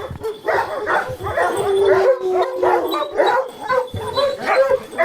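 A dog barks repeatedly in quick bursts, with yips and whimpering howls mixed in, fairly close and loud.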